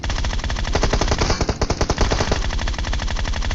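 Rapid automatic gunfire in PUBG Mobile rattles loudly and close, a dense burst of sharp shots with a brief lull midway before firing resumes.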